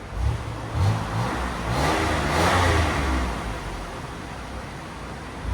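A 2003 Buick Regal with a supercharged 3.8-liter V6, high-flow catalytic converter and stock muffler revs up, its loud, rumbling engine note swelling and easing over a few seconds with no one speaking.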